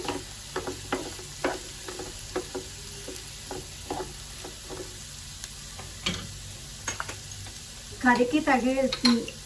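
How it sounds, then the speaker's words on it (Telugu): Ingredients for an egg curry are stirred through hot oil in a pan, with scattered scraping taps over a soft background sizzle; near the end a louder burst of clattering stirring rises above it. "వీటిని మంచిగా ఆయిల్లో అంతా కలిసేలాగా కలుపుకోవాలి."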